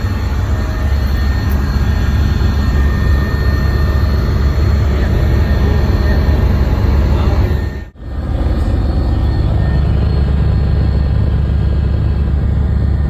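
Steady, loud engine and rotor drone heard from inside a helicopter cabin flying over the Ayodhya Deepotsav for Diwali 2023, continuous broadband roar with a brief dropout near the end before resuming.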